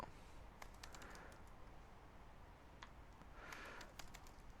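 Someone types on a computer keyboard in a quiet room, two short bursts of light, quick clicking keystrokes with a pause between, faint and close, with no talking.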